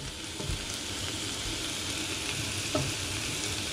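Onions and garlic frying in a pan for a wild boar daube, a dense, continuous sizzle at moderate level, broken by a few soft stirring knocks.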